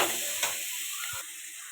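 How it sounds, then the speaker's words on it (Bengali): Crab claws fry in hot oil in a pan, giving a soft continuous sizzle and hiss with a brief stirring scrape near the start and a quieter tail, up close and without talking. "এবার দাঁড়াগুলো ওইভাবে ভেজে নেব"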